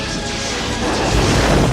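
A starship weapon hit in a film scene lands as a dense, loud, rumbling crash of smashing debris that swells steadily through the whole span, with no speech.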